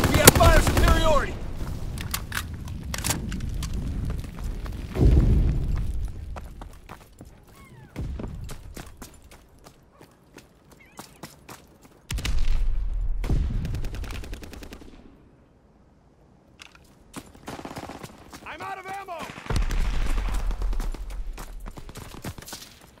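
Call of Duty WWII team deathmatch gameplay with bursts of rapid automatic gunfire and heavy explosion booms in waves, separated by quieter gaps, with shouted in-game voices.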